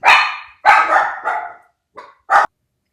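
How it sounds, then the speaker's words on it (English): Dogs barking in several loud, close bursts: three quick barks, a pause, then two shorter ones, with no talk over them. "they will start barking when something important comes up in the reading"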